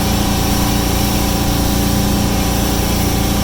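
Sea Ray SLX 270 boat engine running at about 3,400 RPM at 28 mph on Puget Sound, a loud, steady, dense drone that fills the whole short stretch without any voices.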